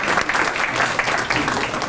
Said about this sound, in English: let's have a round of applause for Ambassador Ed Crawford